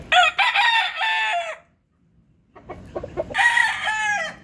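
Rooster crowing close and loud, one long cock-a-doodle-doo, a short gap with a few clucks, then a second crow beginning.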